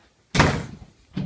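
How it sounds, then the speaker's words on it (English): A door slams shut in a house with one sharp, loud thud, followed a moment later by a second, softer bump, and no voices. "don't slam the door"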